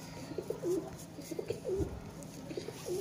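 A Kasoori pigeon with rabbit-like eyes coos in a repeated rolling rhythm, several soft close calls spaced across the moment over faint background noise.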